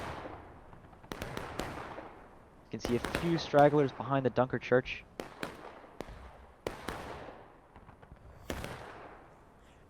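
Cannon and artillery fire from a Civil War battle game near Dunker Church, sounding as scattered sharp booms and bursts over about ten seconds, with a dense cluster of blasts in the middle while someone narrates over them.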